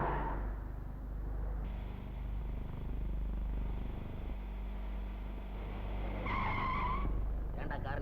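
A car driven hard in a chase skids with long tire squeals over a rumbling engine. A sharp, brighter screech rises near the end, and people can be heard talking underneath.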